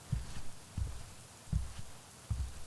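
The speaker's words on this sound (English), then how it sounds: "My heart was hammering so fast" A low, muffled heartbeat thumps in a steady double-pulse rhythm, four beats repeating evenly and close, with no other sounds around it.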